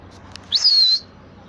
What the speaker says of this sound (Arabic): شباب هاي بعدنا طيور، هاي طيرتين.